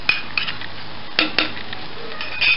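Soft clinks and scrapes of a utensil against a pan or bowl while mashing cooked zucchini for Moroccan zaalouk salad, a few separate knocks spread over a quiet background.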